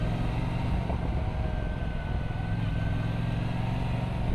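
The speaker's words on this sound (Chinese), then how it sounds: "我感觉发动机声音变小了" Brixton Cromwell 1200 X motorcycle engine on a test ride, a steady, fairly quiet low drone mixed with road and wind noise, with no speech.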